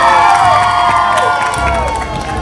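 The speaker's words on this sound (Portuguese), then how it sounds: "sai entre a multidão que aclama e aplaude" A crowd at a Passion of Christ play cheers and shouts loudly as Barabbas is freed, a dense wash of voices with whoops and excited calls, applause blended into the roar.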